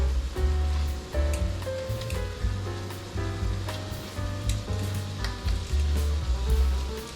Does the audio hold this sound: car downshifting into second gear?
no